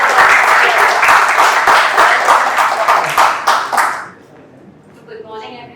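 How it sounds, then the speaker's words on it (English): Audience applause welcoming Dr. Lucky Prasad at a weekly meeting, a steady wash of many hands clapping for about four seconds before fading out into a quiet room. "Let's clap for Dr. Lucky Prasad"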